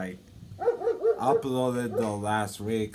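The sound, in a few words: dog barking outside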